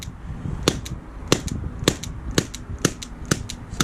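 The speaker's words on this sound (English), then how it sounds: "so I'm just going to continue to discharge the gas" An HDR .50cal home defence revolver dry-firing its remaining gas through the seal: a string of about eight sharp, dry pops at irregular, fairly quick intervals, close and distinct over a quiet background.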